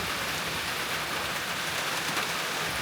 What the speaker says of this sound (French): Je vois la pluie, je me dis je sais pas si j'ai envie de retourner dessous.